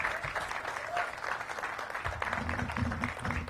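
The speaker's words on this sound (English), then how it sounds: "Give a big round of applause to the Honorable Robin McKinney." A crowd at an outdoor groundbreaking ceremony claps steadily, a brief patch of mid-distance applause with a low voice murmuring underneath toward the end.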